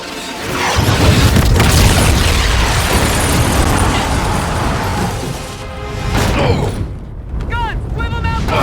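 Heavy warship guns fire in Call of Duty: Infinite Warfare during a Mars naval battle, with a dense, sustained roar of booming blasts and explosions. The barrage eases slightly near the end while a few sharp mechanical chirps cut through.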